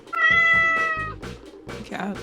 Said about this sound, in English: Cat screaming.